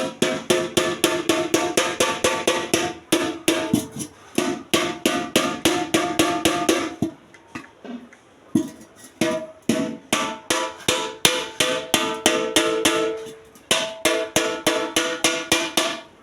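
A household hammer strikes repeatedly to seal a hole in an aluminium pot or plastic bucket, with rapid, loud, close metallic blows in steady bursts and a brief pause midway.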